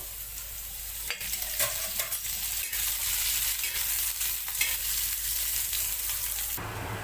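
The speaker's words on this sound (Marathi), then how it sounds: "त्यासाठी मी कांदे घेतलेले आहेत, ते भाजून घेते। थोडंसं तेल घालते मी।" Onions roast with a little oil in a pan for a recipe of patodi bhaji, giving a steady broadband sizzle with stirring scrapes throughout. A brief quieter break near the end leaves no voices.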